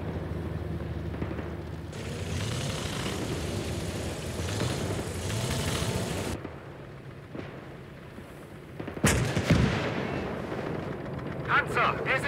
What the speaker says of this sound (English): Look at my mortar.